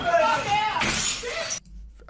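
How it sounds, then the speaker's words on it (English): Glass being thrown and shattering in a heated confrontation, a burst of crashing breakage with mixed voices and noise, cutting off abruptly near the end. "there is a lot of glass being thrown here"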